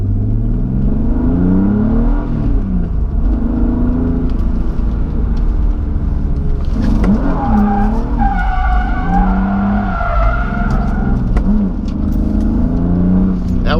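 A BMW M3 drifts in first gear around a small parking lot, the engine roaring loudly and continuously close by while the tires squeal and skid in long wavering howls.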